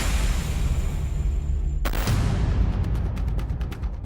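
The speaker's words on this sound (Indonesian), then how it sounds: "berakhir dengan tembakan sebanyak 2 kali dari salah satu maling" A sharp, loud gunshot cuts through steady low rumbling noise on CCTV footage outside a minimarket, followed by a few fainter rapid cracks.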